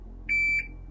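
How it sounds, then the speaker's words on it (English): A shot timer at beginner pistol training gives one sharp electronic beep, a steady high tone of about a third of a second, clear over a faint low hum. "When you hear the beep, fire and keep the trigger pinned."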